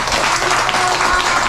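An audience applauds steadily, a dense wash of many hands clapping at close range with no pauses.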